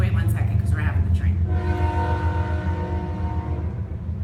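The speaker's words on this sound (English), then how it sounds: "You come in here and you say, we're having a train. So wait 1 second, because we're having the train." A train passes with a sustained horn blast, the rumbling rail noise steady throughout while the long tonal horn sounds from midway on, loud and fairly near.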